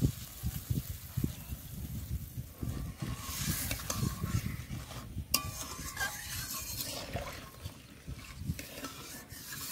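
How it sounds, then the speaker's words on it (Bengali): Water goes into a pan of fried potatoes for a ridge gourd and prawn curry, bringing a steady close sizzle with scraping, stirring sounds and soft bubbling. "এবার দিয়ে দেব জল।"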